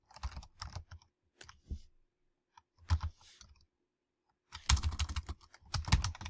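Typing on a computer keyboard while setting up an email newsletter: quick, close clusters of key clicks come in short bursts separated by pauses, growing denser toward the end, with no voice over them.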